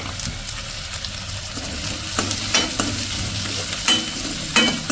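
Onions and chopped green chillies fry in a pan for a spring onion thoran, a continuous close sizzle with bursts of spatula scraping and stirring scrapes through the second half, nobody speaking.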